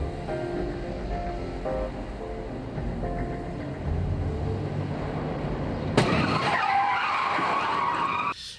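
Car skidding in a film car-accident scene, a loud sudden tyre screech that cuts in and holds a sustained squeal for about two seconds before ending abruptly, following quieter music.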